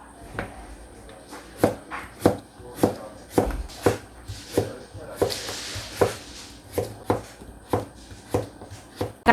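Knife chopping onion, leek and beef on a cutting board for frying, a steady series of sharp, close chops with brief pauses, with faint kitchen rustling between strokes.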